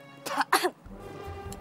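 A man coughs after choking, two sharp rough coughs close together, followed by a quieter throat-clearing rasp and low background noise.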